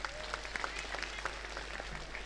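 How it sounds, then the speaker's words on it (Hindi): A village gathering in Alipur, Gurugram, Haryana gives a round of applause, a fairly faint, continuous patter of clapping heard from a distance over a low steady hum. "एक बार जोरदार तालियां इनके लिए"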